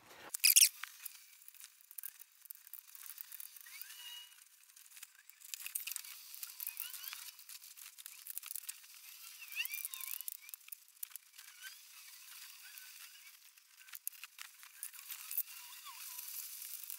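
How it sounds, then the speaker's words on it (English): Stitches being cut with an X-Acto knife and pieces pulled free while taking apart solar-powered car appliances: faint, close-up crinkling, tearing and scratchy snips scattered through, with a sharper burst near the start and no talking. "if I'm very careful and cut the stitches, I should be able to pull those up and take these off"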